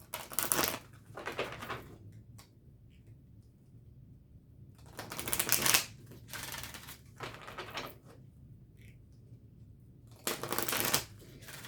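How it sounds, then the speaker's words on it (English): A deck of oracle cards being shuffled by hand in several quick riffling bursts separated by quiet pauses, close and fairly soft, with no talk. "One more shuffle."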